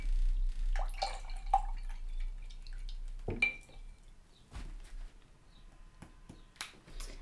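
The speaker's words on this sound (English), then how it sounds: "I'm just going to rinse my brush off just to try and get rid of most of that blue." A paintbrush is rinsed in a water jar while painting clouds, giving scattered splashes, drips and light taps of the brush against the glass, quiet and close, with no talk.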